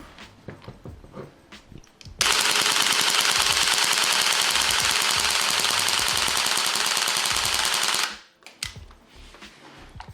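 A GBLS DAS limited edition M4A1 gas airsoft rifle fires one long rapid burst of BBs for about six seconds until the magazine empties and the bolt locks back, framed by mechanical clicks and handling before and after.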